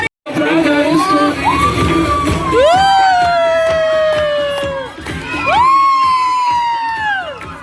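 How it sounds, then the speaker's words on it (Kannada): Audience at a fashion show cheering loudly, with high shrill whoops and yells rising and falling in long sustained bursts, close and crowded. "ಹೊಡೀರಿ ಚಪ್ಪಾಳೆ"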